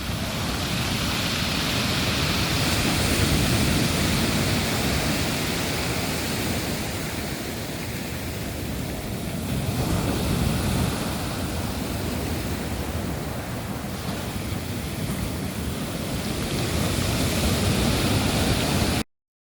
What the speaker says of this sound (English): listen to the noise when the waves go out, all those pebbles